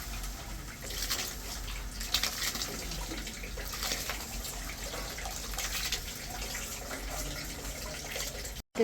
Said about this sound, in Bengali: এখন চাল ডাল দিয়ে দিলাম। ভালো করে ধুয়ে নিচ্ছে